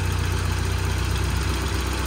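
A Saab 900 engine idles high, around 1500 rpm, after a throttle set screw adjustment, giving a steady, loud, even low rumble heard close up with no talk.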